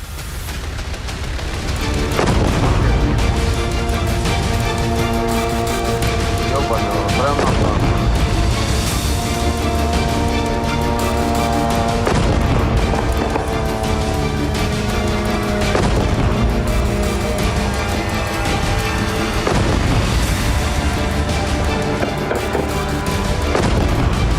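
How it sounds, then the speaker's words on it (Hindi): Explosions from aerial bombardment in the Russia–Ukraine war sound as a continuous, dense rumble with a few heavier booms every few seconds, loud and sustained for about twenty seconds. "आसमान से बमबारी हो रही है।"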